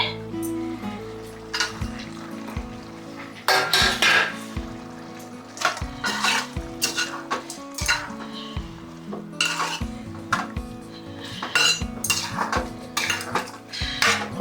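Tomatoes go into a pan of cooking shrimp for a sorrel-leaf shrimp dish. A metal spoon clinks and scrapes against the pan in a busy rhythm while a soft sizzle runs underneath, close and fairly loud.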